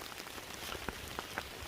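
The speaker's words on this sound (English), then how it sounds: "walking in the rain" Steady rain patters on a forest trail in the Great Smoky Mountains along the Appalachian Trail, a dense wash of hiss with scattered sharper drops landing close by, with no voices.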